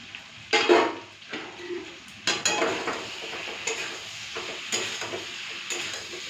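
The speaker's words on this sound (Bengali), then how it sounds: "এই যে আলু ফুলকপি কড়াইশুঁটি ভালো করে কষা হয়ে গেছে" Potato, cauliflower and peas stirred and sautéed in a pan give a steady close sizzle, broken by several louder scraping stirs of a utensil against the pan.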